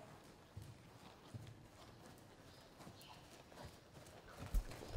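Horse hooves at a posting trot during a riding lesson in a circle, a steady two-beat rhythm of soft, fairly faint footfalls on the ground, with no talk.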